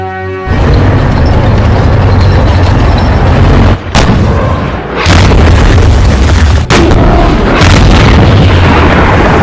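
Tank cannon fire and explosions from the WWII war film White Tiger, very loud and dense, as a sustained barrage of booming blasts with a couple of brief gaps and no voices.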